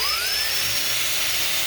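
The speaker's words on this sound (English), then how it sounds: "now we need to drill the hole in the bottom for our power port" A step drill bores a hole through the bottom of a plastic box for a power port. It makes a loud, steady high whine that climbs in pitch as it bites in, heard alone and close.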